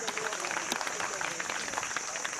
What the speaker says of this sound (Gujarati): તાળીઓથી વધાવીએ મિત્રો